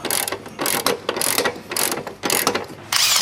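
Repeated bursts of ratcheting as step bolts are snugged up on a 2015 GMC Canyon during installation of 4-inch oval running boards, with rapid clicking strokes separated by brief pauses, close and loud.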